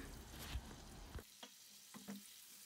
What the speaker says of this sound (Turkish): Karıştırarak yağın erimesini sağlayalım.